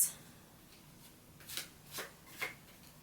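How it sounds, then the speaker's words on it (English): Tarot cards set down one after another on a surface, three soft, brief slaps spaced about half a second apart over a quiet background. "So I'm just going to put down the 6 cards."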